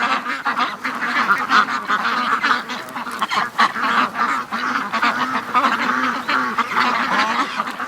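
Free-range ducks at a lake keep up a dense, continuous chorus of honking quacks, loud and close, with many overlapping calls and no pauses.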